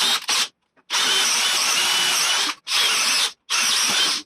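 Parkside PBSPA 12 C3 12V cordless drill struggling to bore with a 10 mm bit, its motor whining in three loud runs that cut out abruptly, separated by short silences after an initial brief start-stop.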